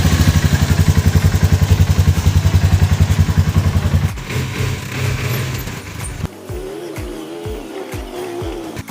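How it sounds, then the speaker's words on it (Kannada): A motorbike ride at a hill resort games park, the engine running loud and steady with a fast pulsing beat for about four seconds, then easing and changing into rougher, uneven revving and thumps. "Bike riding."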